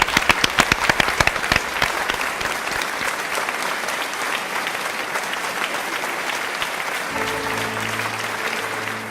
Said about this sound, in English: Let's give a round of applause to Broadway Barkadas Loresa, Lanceta, and Alan Lucky.